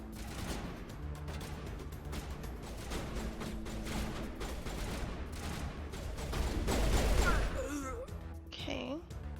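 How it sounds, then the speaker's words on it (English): Gunfire from the video game Mass Effect rattles out in rapid bursts of sharp shots. Near the end it gives way to a few swooping electronic effects and voices. "I'm gonna shoot your feet."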